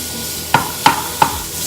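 Ground pork cooks in a pot while a utensil stirs it, making three distinct scraping knocks over a faint background sizzle. The knocks are evenly spaced and close.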